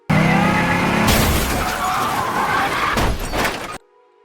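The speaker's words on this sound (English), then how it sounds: "suddenly Ma comes and hits their car" A car slams into another car in a crime drama scene: an engine rumbles steadily, then a loud broadband crash at about one second with shattering debris, followed by scraping and clattering until a second impact burst near the end, then abrupt silence.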